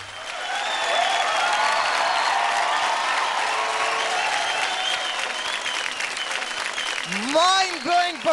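An audience applauds and cheers after a dance performance on a children's dance competition show, loud sustained clapping with shouts mixed in, then a host's voice rises over the fading applause near the end.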